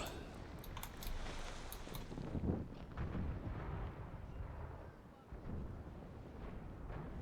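Artillery cannon fire in the Empire: Total War strategy game, heard as a rumbling, boomy wash of repeated blasts with some sharper cracks early on, steady and fairly loud throughout.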